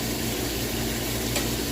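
Meat browns in a hot pan, a steady close sizzle and crackle of frying with a faint low hum underneath.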